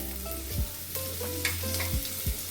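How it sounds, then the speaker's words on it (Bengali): Long sliced carrot strips stirred in hot oil in a pan while making egg chow mein: a steady sizzle broken by several scraping stirs of a spatula, close and clear, with no talking. "আমি প্রথমে গাজরটাকে একটু হালকা করে নাড়াচাড়া করে নেব"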